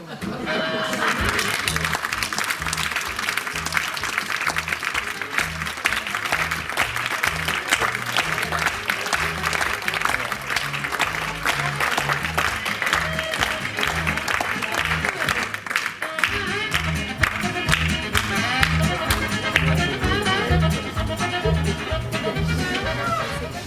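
Applause from a live audience after a comedy sketch about insurers at a French variety show, sustained clapping mixed with music and voices and running at a fairly steady level throughout.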